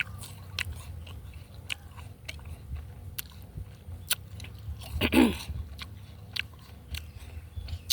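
Crunchy guava fruit being bitten and chewed close up, with crisp repeated crunches and wet munching and one louder bite in the middle.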